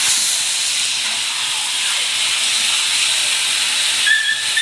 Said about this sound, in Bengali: মশলাটার সঙ্গে চিকেনটাকে কষিয়ে নিতে হবে